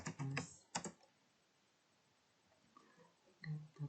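Short bursts of key clicks on a computer keyboard, close and quiet, with a pause of near-silence in the middle before a final cluster of taps.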